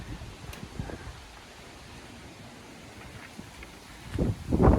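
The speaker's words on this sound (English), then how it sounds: "Yeah, it's windy as hell out here." Strong wind outdoors makes a low, quiet rush and rustle at first, then heavy gusts buffet the microphone with deep rumbling bursts toward the end.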